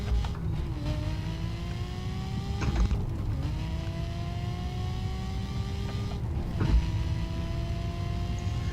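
Pagani Huayra in the video game The Crew, its engine droning steadily at moderate distance, with rising tones climbing through several gear shifts in a repeating sweep, each ending in a short break before the next pull.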